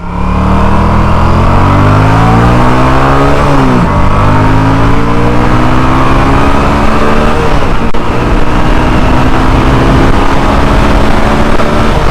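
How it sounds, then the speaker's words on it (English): A Honda CX500 motorcycle engine revving hard at full power, loud and close, its pitch climbing steadily before dropping at each gear change and rising again, continuous throughout with no talk. "Here I'm getting the little Honda delivering everything it's got to keep up with that Moto Guzzi."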